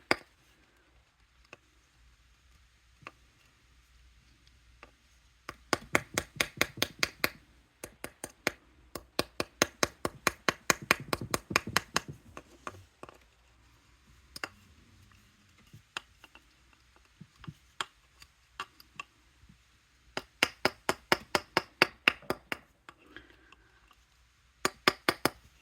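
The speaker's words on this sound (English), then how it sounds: "Let's hammer that a little bit better." Small hammer strikes on an adjustable amethyst ring fitted over a steel ring mandrel, close, sharp metallic taps in quick bursts of rapid blows, separated by pauses and scattered single taps.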